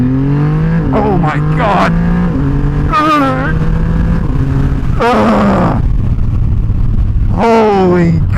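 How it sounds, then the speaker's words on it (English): A Triumph Rocket 3 motorcycle accelerates at full throttle, its engine climbing loudly through repeated gear shifts with rising and falling pitch, heard up close from the rider's position while a voice exclaims over it. "let's get the full beans acceleration on the Triumph Rocket 3"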